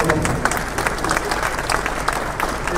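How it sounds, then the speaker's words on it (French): Audience applause at the opening session of a conference in Beauvais, a steady, full round of clapping from many people that holds at an even level throughout. "Je pense qu'on peut les applaudir car leur investissement est vraiment important."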